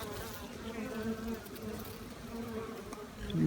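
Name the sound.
honeybees buzzing around hive during inspection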